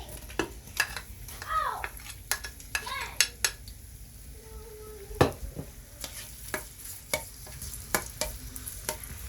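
Sliced onions go into an Instant Pot to sauté, bringing a soft sizzle with repeated sharp clinks and scrapes of a utensil against the metal pot, while someone talks quietly in between.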